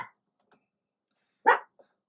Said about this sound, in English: That's a barking dog.